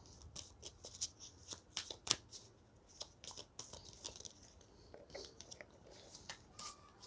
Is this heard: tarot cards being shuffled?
yes